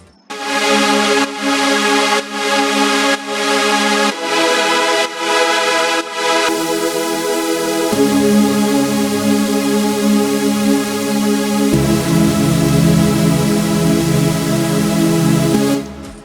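Layered synth chords from the drop of a track, loud and sustained, changing chord roughly every two to four seconds across about sixteen seconds, with no voices over them.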